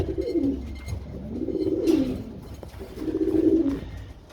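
Pigeons, including a large Van Loon cock, coo in three low, throaty, rolling phrases, evenly spaced and close by, with no other sounds around them.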